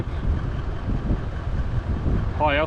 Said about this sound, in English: I've had to come behind the car to keep out of the wind